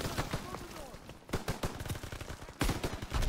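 Rapid bursts of automatic and single-shot gunfire from a Call of Duty WW2 campaign ambush mission, loud cracks and rattling volleys in quick succession, with someone shouting over the shooting.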